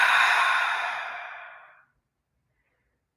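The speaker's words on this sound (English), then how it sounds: "Release that breath out" A single long, breathy exhale during a yoga session, loud at first and fading steadily over nearly two seconds into silence.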